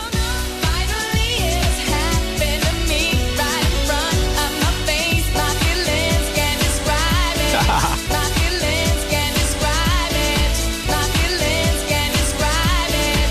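A recording of a dance song plays on a breakfast radio show in Bradford, West Yorkshire. The full-band track is loud and continuous, with a driving steady beat and no talk over it.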